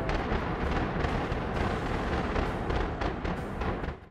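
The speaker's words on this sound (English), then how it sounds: "the explosion seemed quite impressive, with booming sounds, smoke, and signs of collapsing" An old power plant is brought down by demolition charges, giving a continuous loud rumbling roar of explosions and collapsing debris that holds steady for about four seconds before cutting off.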